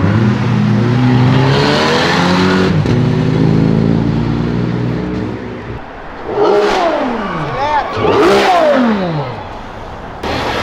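An orange Jaguar car revs and accelerates on Avenida Europa, starting as a loud, steady engine drone, then pulling away in two rising, roaring sweeps close by, with faint voices in the background.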